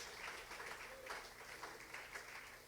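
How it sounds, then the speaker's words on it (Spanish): A church congregation applauds during a Sunday school service, a steady wash of clapping from a crowd in a room. "¿Alguien quiere aplaudir al Señor en esta mañana?"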